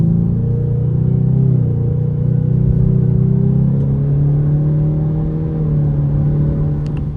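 A 2025 Ford Mustang EcoBoost pulls away on a back road under light throttle, its engine a steady, loud, low drone that gently rises in pitch with no voices over it.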